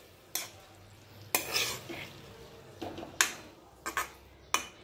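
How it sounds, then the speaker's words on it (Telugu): A spoon scrapes and clanks against a pan while tomatoes and green chillies are stirred in oil, with sharp metallic knocks spaced unevenly among softer scraping and a faint sizzle. "చూసారు కదా వీటిని ఈ విధంగా ఆయిల్లో వేసుకొని ఒకసారి బాగా కలుపుకోవాలి."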